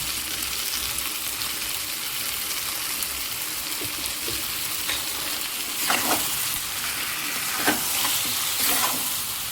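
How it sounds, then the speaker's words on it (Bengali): Chicken with cumin, coriander and salt frying and being stirred in a pan, a steady sizzle broken by a few louder scraping bursts near the end, with no talking. "এবারে দেখুন আমি চিকেনটা ঢেলে দিচ্ছি।"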